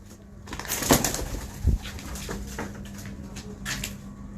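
Pigeons coo in a low, repeated murmur, with a louder burst of calls and a brief flutter, mid-distance and fairly quiet, with no talking.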